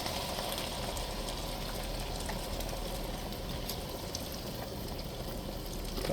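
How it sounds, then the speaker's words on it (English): About two cups of beef broth pour steadily into a pot of vegetable beef soup, giving a continuous close splashing, gurgling wash with no pauses. "we're going to add about 2 cups of 2 cups of beef broth"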